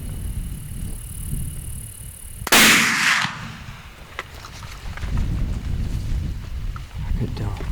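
A single muzzleloader rifle shot fired at a deer during a Kansas hunt booms loudly and briefly outdoors, followed by quieter ambient noise and hushed talk.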